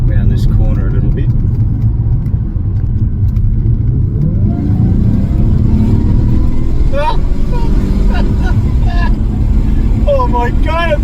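Supercharged 2005 Jaguar XJR with a new intake manifold accelerates, its engine roaring loud and rising steadily in pitch from inside the cabin, while people talk over it in the second half.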